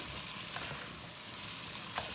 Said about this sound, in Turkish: Domates salçasıyla beraber biberlerimizi bir kavuracağız.